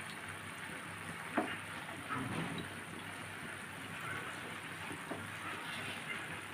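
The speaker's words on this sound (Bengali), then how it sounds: "মটরশুঁটি দিয়ে আমি ভালোভাবে নেড়ে চেড়ে একটু ভাজা ভাজা করে" Soybean and pea vegetable curry frying in a pan, a soft steady sizzle with a few light clicks of stirring, fairly quiet and with no voices.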